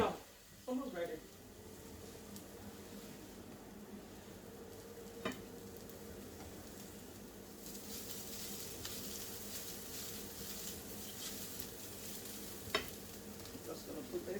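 Jungle prawns fry in a pan with a steady low sizzle and occasional stirring scrapes, while a person talks over it.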